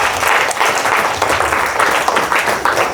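A church congregation applauding, loud and close, a continuous burst of many hands clapping with uneven pulses throughout.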